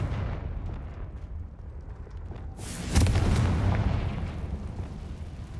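A loud fire spell detonates in the Hogwarts Legacy video game, a single booming explosion that bursts in suddenly and rumbles on with a long, heavy tail, with no talk over it.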